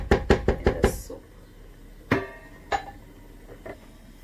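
Boiled tripe cut into pieces on a board: a quick run of five sharp knife chops, then a pause and a few scattered single knocks, close and fairly loud.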